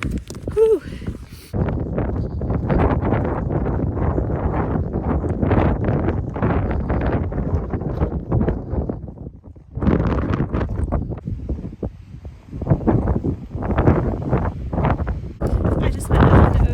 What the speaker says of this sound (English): So windy up here that my eyes are watering.